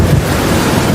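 Rain falling in an animated story scene, a steady broadband wash of rainfall noise with low rumble, continuous and fairly loud for about a second, no voices.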